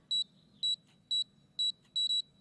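An alarm system keypad gives a series of crisp, high-pitched electronic beeps as keys are pressed, five evenly spaced tones with the last one doubled, close and clear with no voices.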